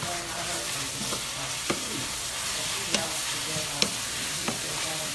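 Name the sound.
sautéing collard greens in a pan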